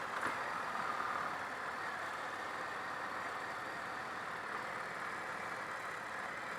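A fuel-injected Indian Motorcycle FTR 1200 engine runs at a low, steady pace while the bike is ridden slowly, giving a continuous hum over wind and road noise without any revving.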